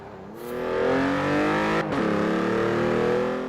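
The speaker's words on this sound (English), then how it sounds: "BMW sports car" A BMW sports car engine revving in Forza Horizon 4, a loud sustained tone climbing in pitch, a brief break as it shifts gear, then pulling steadily again.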